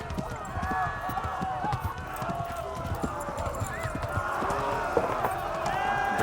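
Horse galloping in the Kingdom Come Deliverance video game, a rapid rhythmic clip-clop of hooves that stays steady and close with rushing wind, while someone talks over it.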